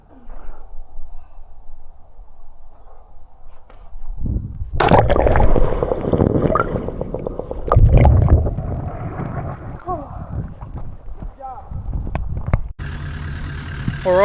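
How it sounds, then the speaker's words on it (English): A Land Cruiser engine runs with a van hitched behind, starting faint and low, then rising into a louder rumble with clunks and wind buffeting over the microphone, followed by a steadier idle. "cruiser's running, van's hooked up"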